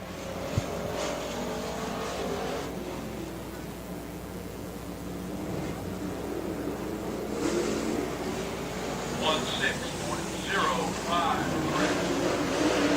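Race car lapping a speedway oval, engine droning at a distance and swelling as it comes around, with a track announcer talking over the noise throughout.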